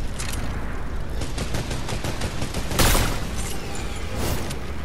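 Rapid bursts of video game gunfire crackle close and loud, with a sharper, heavier blast near the middle and steady shots rattling throughout.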